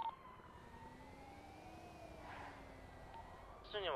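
A distant police siren in a video game wails with slowly rising and falling tones under a low background rumble, with a brief sharper burst near the end.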